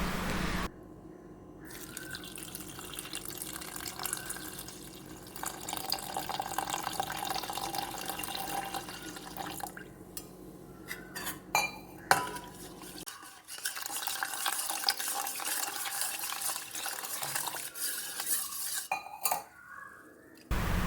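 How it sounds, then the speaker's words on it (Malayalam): Water and salt being added to a mixture and stirred for a traditional coconut-based drink, with spoon scraping and clinking against a vessel and pouring water, continuous and close, no voices. "ഇനി ഇതിലേക്ക് ആവശ്യമായ ഉപ്പും വെള്ളമൊക്കെ ചേർത്ത് നമുക്ക് നന്നായിട്ടൊന്ന് മിക്സ് ചെയ്ത് കൊടുക്കാം"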